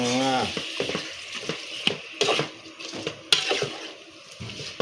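Chicken curry frying in a pan, crackling sizzle with bursts of stirring and scraping, close and fairly loud, while a person talks over the cooking at the start.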